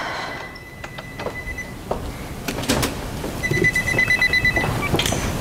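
A telephone rings in a room with a faint, high, repeated electronic trill in short bursts over a background of hiss and scattered clicks and knocks.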